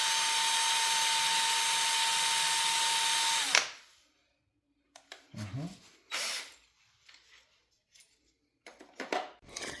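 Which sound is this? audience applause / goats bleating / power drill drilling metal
power drill drilling metal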